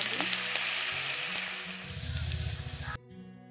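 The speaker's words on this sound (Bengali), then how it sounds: "ভেজে নিচ্ছি খালি তাওয়াতে।" Dry-roasting on an empty tawa for upma gives a steady, close hiss with a faint low hum and light scraping, then cuts off abruptly just before the end.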